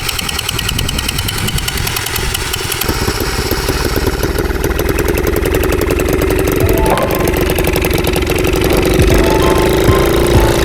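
An ATV engine starts and settles into a loud, close, steady idle with a rough, knocking mechanical chatter that rises slightly in pitch toward the end.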